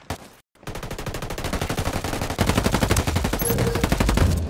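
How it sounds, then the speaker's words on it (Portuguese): Rapid machine-gun fire in a video game firefight, a loud close stream of fast repeated shots after a brief pause, intensifying into heavier bursts in the second half. "Estão atirando!"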